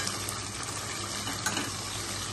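Keema and chopped onions fry in a pan, giving a steady, dense sizzle with faint scraping as they are stirred, continuous and fairly close, with no voices.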